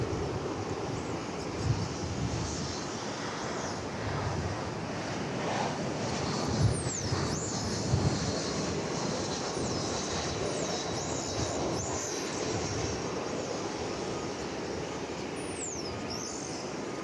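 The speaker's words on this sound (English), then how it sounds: "this UPS MD is trucking on over to the east side for a takeoff" A UPS MD-11 heavy jet taxis toward the runway at Dallas/Fort Worth airport, producing a steady, fairly distant broadband engine roar mixed with wind that stays even throughout, with no talking.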